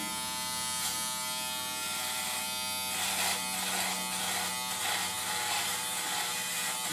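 A Remington F3 foil shaver buzzes steadily and close up, a constant high-pitched motorized whir that swells slightly as it presses and moves.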